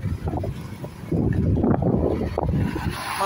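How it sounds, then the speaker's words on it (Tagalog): Wind gusting along a street in Greece, a continuous rumbling rush against the microphone that strengthens partway through, with no clear talk over it. "Mahangin ngayon"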